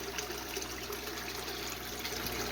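Water trickles over a waterfall in a home aquarium, a steady, even splashing wash that carries on unbroken and fairly close, with no talk.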